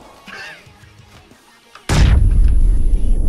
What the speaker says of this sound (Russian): А, граната!